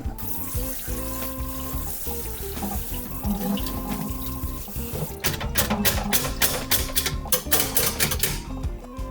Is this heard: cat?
no